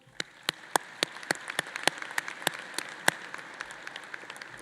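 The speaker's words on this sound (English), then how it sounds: "if we could recognize the platform party with a round of applause" Sparse, distinct handclaps at a university spring commencement ceremony, a thin scattering of individual claps over a steady background hiss, fairly faint and without cheering.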